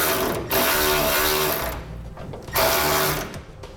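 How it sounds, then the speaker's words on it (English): Socket ratchet tightening bolts on a vehicle frame while fitting Air Lift LoadLifter 5000 air helper springs, two short bursts of rapid clicking ratcheting close by, each lasting about a second. "Then we can tighten those bolts down to specification."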